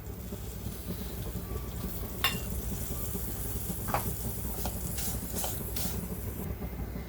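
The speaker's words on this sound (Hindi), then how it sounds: "चम्मच चला चला के ये करेंगे, भुनेंगे" Vermicelli is roasted in a pan for sher khurma while a spoon stirs it, giving a continuous low frying hiss with a few light scrapes and taps of the spoon.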